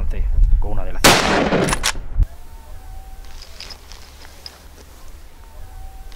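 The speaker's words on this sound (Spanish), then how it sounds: "ya van 20 tiros más o menos irán" Loud gunshot bursts during a Spanish montería deer hunt, a dense cluster of sharp cracks early on, then quieter outdoor ambience with faint distant sounds.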